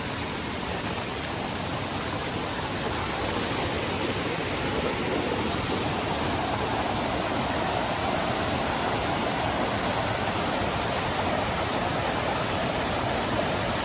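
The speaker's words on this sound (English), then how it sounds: "so this is the Rua Waterfall" Dense, constant roar of Tan Rua Waterfall on Koh Samui, Thailand, loud and unbroken for the whole stretch, with no voices.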